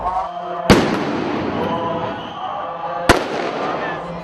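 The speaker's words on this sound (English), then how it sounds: "So shooting has actually started here. There have been gunshots fired." Two loud, sharp gunshots crack about two seconds apart over a noisy crowd murmuring in the street during a violent political protest in Laksi district, Bangkok, Thailand.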